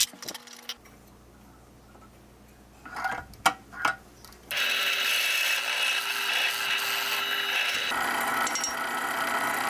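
A drill runs an 8.5 mm bit into wood to bore a hole for an insert nut. A few clicks and handling knocks come first, then a loud, steady whirring grind that continues to the end.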